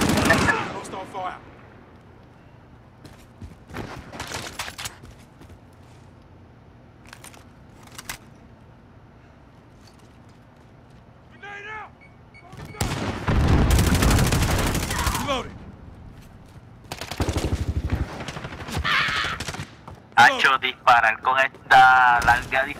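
Gunfire from the video game Call of Duty: Modern Warfare crackles in scattered single shots and dense bursts, swelling into loud sustained volleys in the second half, with a player talking over parts of it.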